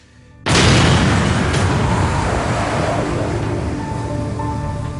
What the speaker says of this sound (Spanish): Hubo una gran explosión.